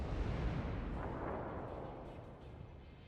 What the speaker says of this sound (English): And here comes a lot more torpedoes.